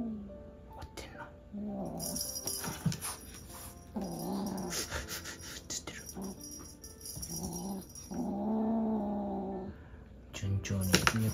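An abandoned kitten growling angrily in bursts, its low rumbling growls rising and falling close by, mixed with soft speech from a person nearby.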